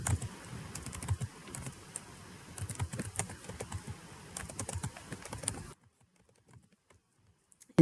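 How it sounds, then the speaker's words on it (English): Someone types data into a spreadsheet on a computer keyboard, producing quick, uneven key clicks at close range. The typing stops and the last couple of seconds are nearly silent. "So you take a second and type yours in as well"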